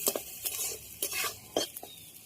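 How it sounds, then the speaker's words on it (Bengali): Garlic fries in a pan with salt and turmeric, a soft sizzle broken by several sharp scrapes and clinks of a spoon stirring against the metal. "অল্প পরিমাণ লবণ, একটু হলুদ দিয়ে আমি ভেজে নেব রসুনটাকে।"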